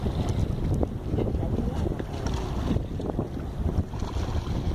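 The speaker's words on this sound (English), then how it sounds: "Pretty windy." Strong wind buffets the microphone in a continuous rough roar near open water, gusting unevenly over a few seconds.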